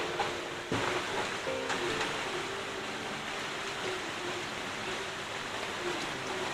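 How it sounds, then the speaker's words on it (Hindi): Steady rain falling on a morning, a continuous broadband hiss at moderate level with no talk, heard alone throughout. "सुबह से ही बारिश हो रही है आज।"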